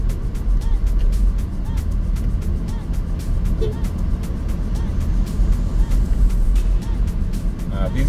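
A car drives through the streets of Mombasa, its engine rumbling low and loud inside the cabin with intermittent rattles and bumps, while someone talks over the road noise.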